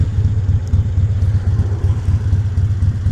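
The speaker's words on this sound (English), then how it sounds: "Give him a little throttle back" A Harley-Davidson motorcycle engine on an evening ride gives a steady, loud, low rumbling throb with a slight throttle blip, close and with no talk.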